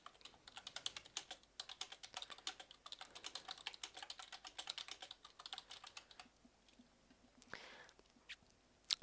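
Quiet rapid typing on a computer keyboard, a dense run of light clicking keystrokes that slows into sparser taps toward the end, close and faint.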